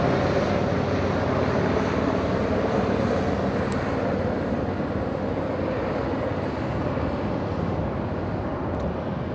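Delta Boeing 767-300 airliner at LAX, a steady, fairly distant engine roar that holds as a broad, even rumble for the whole stretch.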